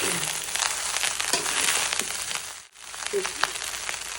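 Vegetable fried rice with spring onions stir-fried in a hot pan, a close, steady sizzle punctuated by scraping and tossing strokes, with a brief lull midway before the frying resumes.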